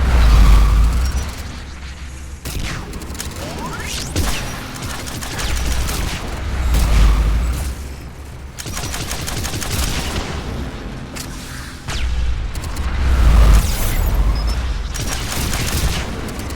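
Gunfire in the video game Mass Effect 3, with rapid bursts and booming shots rolling over a low rumble in loud, dense waves and no talking.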